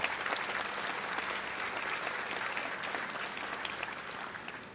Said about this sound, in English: So a big round of applause to the VES staff.